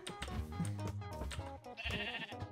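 A sheep in Minecraft bleats repeatedly, clear wavering calls one after another.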